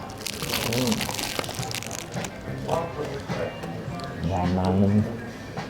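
Someone bites into crispy bacon-wrapped meatballs served with burrata and chicory, producing sharp, close crunches and crackles scattered through the clip while people talk over the chewing.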